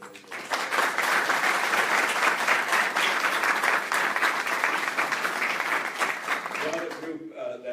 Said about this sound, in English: I want to give her a round of applause for dealing with those things